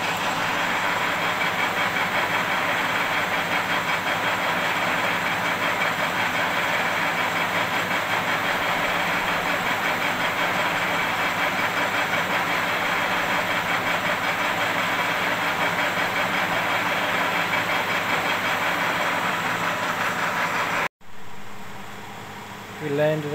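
A lathe runs with the feed engaged while machining a drum brake hub, a steady mechanical whir and hum at an even level that cuts off abruptly near the end, followed by faint quiet.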